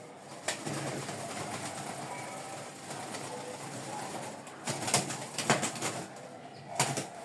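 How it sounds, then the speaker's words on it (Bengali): Hatbaji pigeons, a male and a female, give soft low coos under a steady background hum, broken by several sharp bursts of wing flapping near the end. "এই হচ্ছে হাতবাজির কবুতর এটা হচ্ছে মেল নর আর এটা হচ্ছে মাদি ফিমেল"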